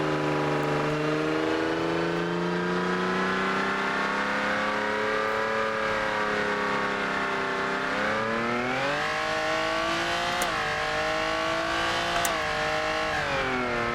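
A Ferrari FXX engine revs and accelerates in a loud, continuous wail, its pitch climbing, dipping and surging again through several gear-like rises.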